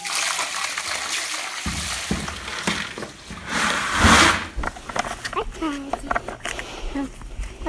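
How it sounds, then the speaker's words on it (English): Washed coffee beans being drained of their water on a Colombian farm, a splashing, trickling pour under ongoing talk, with a louder gush midway. "So now I gotta drain all the water."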